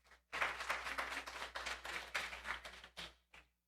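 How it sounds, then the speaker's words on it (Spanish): Congregation applause at a church service, a short burst of hand clapping from a modest group, fairly faint, fading out after about three seconds with a couple of stray claps. "Un aplauso."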